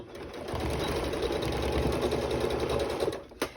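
A sewing machine runs in one steady stitching burst while elastic is sewn onto a basket pocket, loud and close, with a brief knock near the end.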